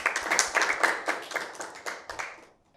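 A small group at a school Bible quiz claps together in a brief burst of applause, the rapid hand claps fading out within a few seconds.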